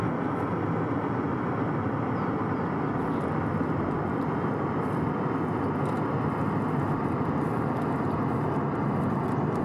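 A loud airplane passes overhead, producing a dense, steady broadband roar that holds at a constant level for nearly ten seconds without voices.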